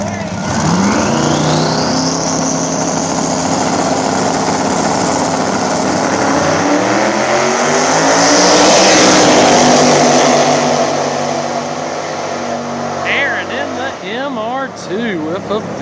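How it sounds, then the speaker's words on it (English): A Nitrous Mustang and a Turbo MR2 drag racing, with loud, close engines winding up through rising gear sweeps into a roaring pass, then fading into lighter revving near the end. "Got Michael Hill, Nitrous Mustang, taking on the Turbo MR2."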